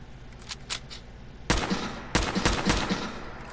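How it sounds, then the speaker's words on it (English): Modded rifles fire in Fallout 4, with a few faint early pops followed by two loud, sharp gunshots, each trailing into a ringing echo. "now let's actually test the rifles out"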